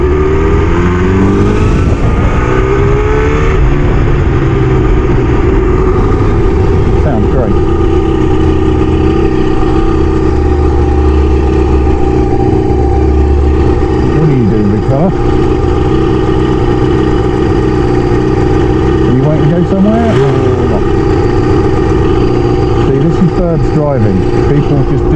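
A Kawasaki ZL600 Eliminator motorcycle is being ridden, its engine droning steadily and loudly throughout with a few rising and falling rev changes, and a voice talking over the ride.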